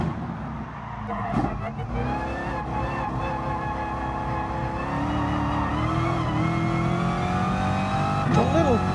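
Engine of a GR.4 race car in Gran Turismo Sport at Suzuka, heard from the cockpit as a steady, loud drone with shifting pitch, a brief gear change and a rising rev near the end.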